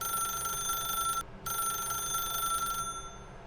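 A telephone in The Stanley Parable rings with a steady, bright electronic trill, loud and close, briefly cutting out before ringing on and then trailing off near the end.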